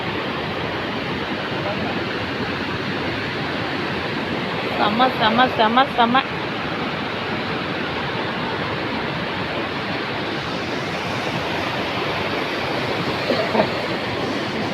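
Steady broadband rush of falling water throughout, with excited voices briefly calling out over it midway.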